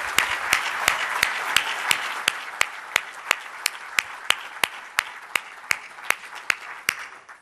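Scattered audience applause at a Ridgecrest talk, sharp individual claps repeating steadily over a soft crowd patter, fairly near and moderately loud, with no speech.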